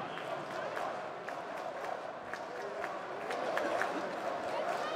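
Large esports arena crowd at a CS:GO major grand final roars and cheers steadily, a dense distant mass of voices and clapping that swells slightly toward the end.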